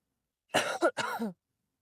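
A single short bout of coughing, two or three harsh throaty bursts close up in a quiet yoga session, with silence before and after.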